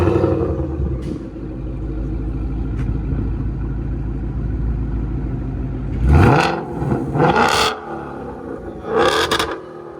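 A 2024 Ford Mustang GT 5.0 V8 with a Borla S-Type cat-back exhaust idles with a deep rumble, then barks out three sharp, loud revs close by.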